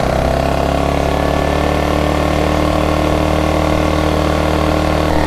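A pull-start engine at an off-grid tiny house runs at steady high RPM, a loud, continuous droning hum heard up close and alone.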